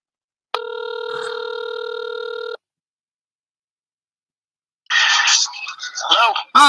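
A telephone rings once with a steady electronic tone for about two seconds, followed by silence, then a voice answering through the line.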